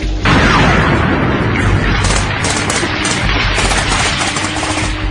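Artillery and mortar shells explode in a staged war drama, a loud, dense barrage of booms and crackling blasts that runs without a break.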